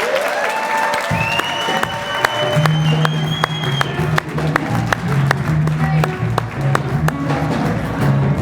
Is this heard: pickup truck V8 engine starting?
no